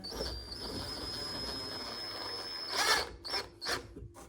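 A power drill whines steadily as it drives a screw into a wooden squirrel feeder, followed by a few short bursts of the drill near the end.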